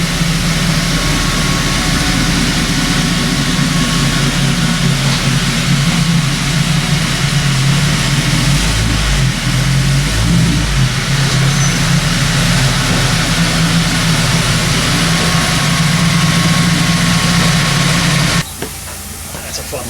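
A 1932 Ford 5 Window Coupe hot rod engine runs close by, a steady heavy low rumble with a few brief revs swelling in the middle, loud throughout before cutting off near the end.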